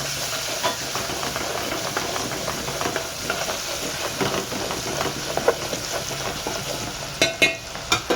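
Asafoetida, garlic, curry leaves and chili frying in hot oil for a Maharashtrian sprouted moth bean curry, a steady close hiss and sizzle with light stirring scrapes and a few sharper crackles near the end; no talking.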